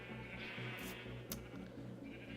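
A single sheep bleats in a blocky Minecraft-style game base, a short wavering bleat with a quiet ambient tone underneath.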